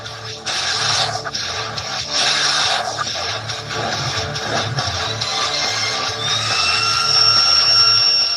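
A Conca car vacuum running at 15,000 pascal suction, a loud steady motor whine with airflow rush and slight pitch shifts, continuous throughout.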